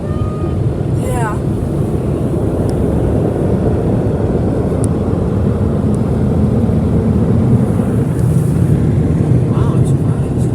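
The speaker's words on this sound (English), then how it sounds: "It's the old Tech 21 air dryers, like the old motor." Old Tech 21 air dryers at a car wash roar loud and steady, a dense, constant motor-and-air blast that fills the whole stretch, while people talk over it.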